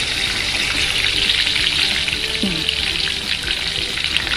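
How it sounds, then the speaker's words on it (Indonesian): Tomatoes fry in hot oil in a wok, giving a steady dense sizzle throughout at close range with a faint clink partway through. "Untuk menggoreng tomat ini kita goreng sampai layu ya teman-teman"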